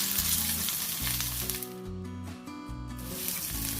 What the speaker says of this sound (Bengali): কিছুক্ষণ হাই ফ্লেমে রাখার পর আমি স্প্রিং অনিয়ন ছড়িয়ে দিলাম